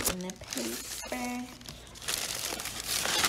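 Gift wrapping paper crinkles and rustles as a birthday present is unwrapped from a bag, close and fairly soft, with a voice speaking briefly over the start.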